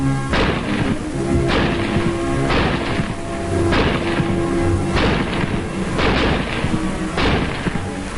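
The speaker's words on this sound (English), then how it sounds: "Simply insert another clip of 8 rounds and commence firing." A Springfield rifle fires a full eight-round clip: loud, booming shots follow one another at a brisk, even pace of roughly one per second, each with a heavy thump and a ringing tail that blends into the next.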